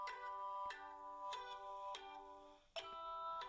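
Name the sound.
phone ringing, incoming call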